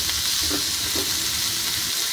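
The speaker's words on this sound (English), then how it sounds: "We will saute it" Chopped onions and cumin seeds saute in a hot pan for a sandwich stuffing, giving a close, continuous frying hiss with faint stirring.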